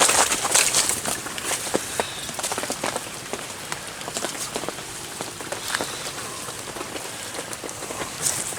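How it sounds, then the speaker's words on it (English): Steady rain patters densely on surfaces nearby, a continuous hiss dotted with sharper individual drop hits throughout, fairly close and unbroken by voices. "That's just rain."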